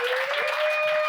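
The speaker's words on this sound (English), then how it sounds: "Give yourselves a round of applause" A brief, continuous burst of audience applause fills a comedy show venue, even and fairly loud throughout.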